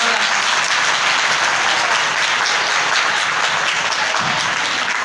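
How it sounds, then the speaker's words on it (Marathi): Secondary school students at Raja Shivchhatrapati Vidyalaya clap together in dense, steady applause that fills the room evenly from start to finish without a pause. "तुमच्यासाठी एकदा तुम्हीच टाळ्या वाजवा"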